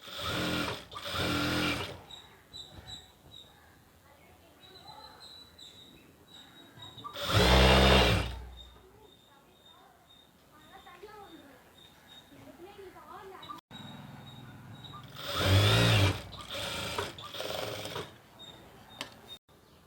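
Sewing machine stitching the folded-over hem along the bottom of a skirt, running in three loud bursts of a few seconds each. Quieter stretches between the bursts carry someone talking.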